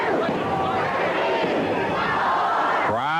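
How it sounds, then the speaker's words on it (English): A 1985 Memphis wrestling arena crowd roars and chants together in a dense, continuous wall of voices, with a single voice rising clearly above it at the very end. "Crowd counting along."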